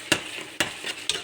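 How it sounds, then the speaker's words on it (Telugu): Tomato frying with onion, chilli and ginger-garlic paste in oil for fish curry, three quick stirring scrapes about half a second apart over a faint sizzle. "Tomato fry."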